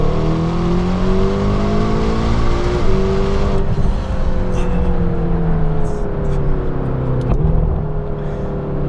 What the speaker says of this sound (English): Little pop on the downshift there.